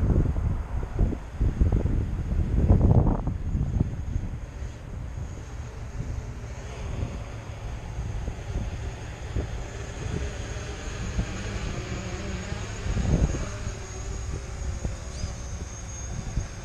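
Strong gusting wind buffeting a microphone outdoors during a drone flight on a very windy day, a loud rumbling roar with heavier bursts early on and a steady blustery rush throughout, no speech.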